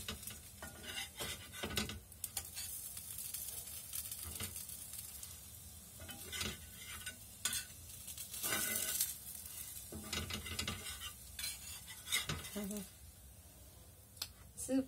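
A ghee egg dosa is folded on a hot pan, with a steady sizzle under repeated scraping and clinking from a metal spatula, close and fairly loud.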